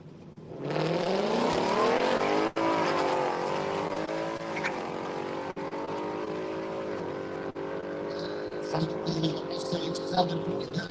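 A Ford Mustang 5.0 launches on a drag strip at night, its engine roaring loud and close, then pulling away through rising gears with a sustained, slowly fading drone under crowd noise and a commentator's voice.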